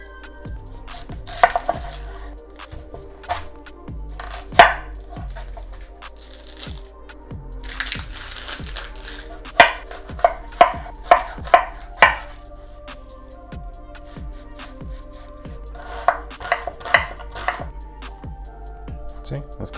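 A knife chops a whole onion on a cutting board, a steady run of sharp close taps and knocks that comes in bursts with brief pauses, with no talking.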